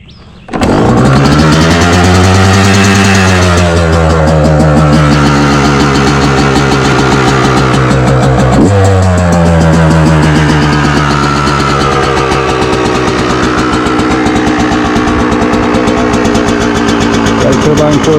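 A Yamaha YZ dirt bike fitted with a Turbine Core 2 silencer fires up and idles loudly at close range, with a brief blip of revs partway through before settling back to a steady burbling idle.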